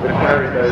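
An Avro Vulcan bomber sweeps past at the 2012 Bournemouth Air Show with its bomb doors open, a loud, steady, broad jet roar with a commentator talking over it.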